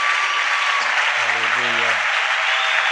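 A church congregation claps loudly and steadily in praise, dense applause filling the hall while a voice briefly sounds beneath it.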